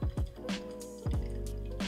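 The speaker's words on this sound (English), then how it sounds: "Now we're gonna continue pouring" Water poured into a HARIO V60 Switch coffee dripper over grounds, heard as close liquid splashing and dripping with a few distinct plops over a steady background.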